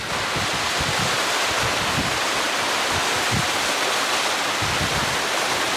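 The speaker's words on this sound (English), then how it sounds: "looks like it's straight up the waterfall now" Mountain waterfall tumbling down Birchen Clough in the Peak District: a loud, steady, close-up rush of falling water that never lets up, with faint wind mixed into the roar.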